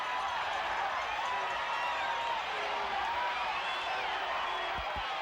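A 1985 Mid-South Wrestling arena crowd keeps up a constant roar with rising and falling shouts and whoops and a few claps, heard at a distance throughout.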